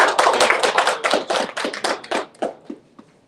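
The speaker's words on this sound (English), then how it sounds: "Can we just give a round of applause?" Small audience at a conference on conflict prevention gives a round of applause, a few people clapping in loose rapid bursts that thin out and fade to isolated claps near the end.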